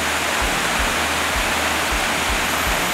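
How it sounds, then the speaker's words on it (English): A fast-flowing river stream rushes outdoors, a loud, steady broadband wash that fills the whole clip, with soft low thumps recurring about every half second beneath it. No voices are heard. "stream of river."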